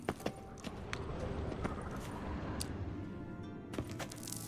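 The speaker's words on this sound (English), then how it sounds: "Another horse. Almost exactly like the last one." Horse hooves clip-clopping in The Witcher 3 game, a faint scattered series of hollow knocks over a low rumbling game ambience, irregular and fairly quiet.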